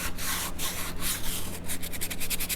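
Sandpaper rubs along the edges of a small wooden picnic table in quick, repeated back-and-forth swipes, close and clear with no voices.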